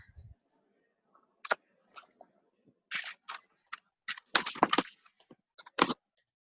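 Typing a club name into a website search bar on a computer keyboard, with sparse clusters of crisp key clicks close to the microphone and quiet gaps between bursts.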